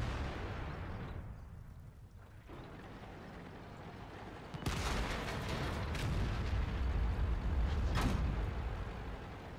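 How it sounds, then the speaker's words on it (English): Tank shell impacts and ricochets in World of Tanks, with a sharp metallic strike after a quieter stretch, followed by rumbling battle noise and another distinct clang near the end, no talking. "Listen to the lovely new ricochet sound effects."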